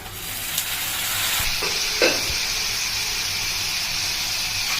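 Ground masala sizzling steadily in a hot pan while being stirred for a methi kadubu dish, a constant frying hiss with a few spoon scrapes and clinks, no voices.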